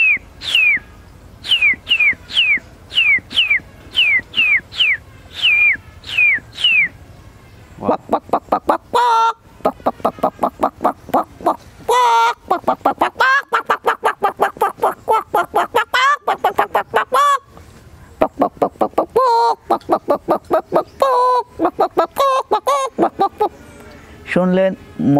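A voice imitates rooster crows and hen clucks: a rapid run of short, sharp whistled chick-like peeps, then a long, loud stretch of dense clucking and crowing calls in bursts, close and alone.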